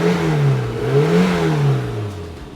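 A classic Mini Cooper barn find with 25k miles, engine idling and revving slightly in a steady mid-pitched hum that rises and falls, loud and close throughout, with no talk.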